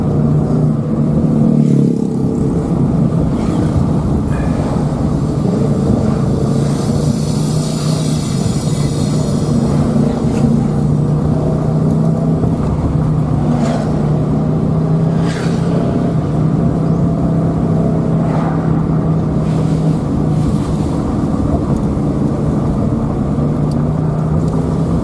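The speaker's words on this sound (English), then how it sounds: "It was just bumper-to-bumper traffic the whole way for the last 2 or 3 kilometers into town." Slow bumper-to-bumper road traffic into town, heard as a steady rumble of idling and creeping engines with occasional louder passing vehicles and faint higher noises, continuous and fairly close.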